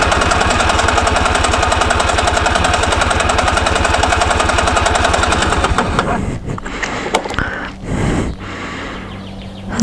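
A 1998 Honda Pantheon 125 two-stroke scooter engine is cranked at full throttle during a compression test. It makes a steady, rapid, loud chugging for about six seconds, then stops, followed by a few scattered clunks and rustles.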